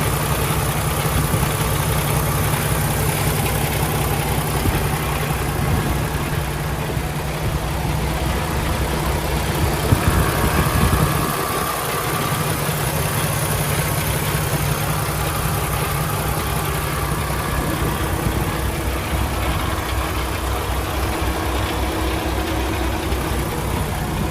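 A 2016 Peterbilt 579 truck's PACCAR diesel engine idles with a steady, rumbling drone that continues evenly throughout, close by and fairly loud.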